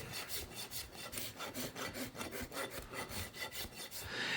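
A farrier rasps a horse hoof flat, producing steady, rhythmic rough scraping strokes, close and fairly quiet, about four per second with no talking.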